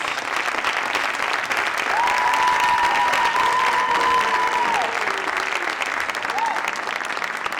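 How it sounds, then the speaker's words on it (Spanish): An audience applauds Alejandra Burgos at a homage event at the Museo Cajal, a loud continuous wash of many hands clapping with a high whistle or cheer rising through the middle, steady from start to finish. "os pido un fortísimo aplauso para Alejandra Burgos"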